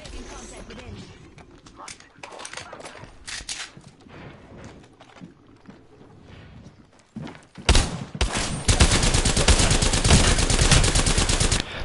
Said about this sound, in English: How did I miss those shots?